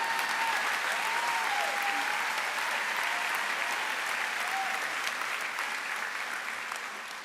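Sustained applause from a school audience fills the hall, dense and steady throughout before thinning slightly near the end, with no speech over it.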